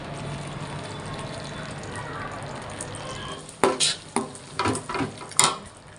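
Jaggery stirred into roasted flour in a pan for sukhdi, a soft low rumble of the mixture for a few seconds, then a run of louder scraping, clattering strokes near the pan.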